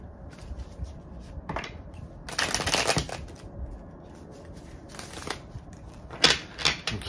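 Tarot cards being shuffled by hand, heard as several quick riffling bursts, the loudest in the middle, separated by softer handling noise, close up with no talking.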